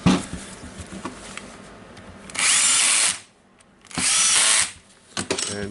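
A Makita DTW1002 cordless impact wrench, just repaired after a faulty controller wire, runs in two loud bursts of about a second each, with a shorter spurt at the end and quiet handling noise between.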